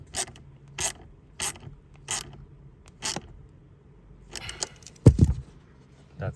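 Tightening the oil filter cover on a 2016 Mercedes GL350 with the OM642 diesel: a series of sharp, evenly spaced ratchet clicks up close, then a cluster of quicker clicks and a louder clunk.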